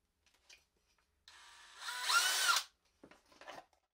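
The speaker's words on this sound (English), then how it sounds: "In the test, I used the cordless drill in drilling mode to unleash its maximum performance." A DeWalt DCD999 cordless hammer drill runs in drilling mode in first gear with a spade or Forstner bit, a close whine that rises into a loud, rough grinding bore before stopping, followed by faint handling clatter.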